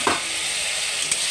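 Chopped tomato hitting hot oil in a pan, a brief burst of sizzle up front settling into a steady frying hiss with a small clink of stirring near the end.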